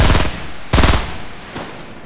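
Three separate Fortnite gunshots, loud and close, each a sharp blast with a short decaying tail, the last one a little weaker, with no voices.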